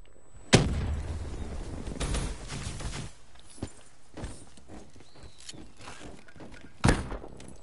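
A frag grenade explodes in a video game with a sudden loud blast that rumbles away, followed later by another sharp boom, with faint voices in between.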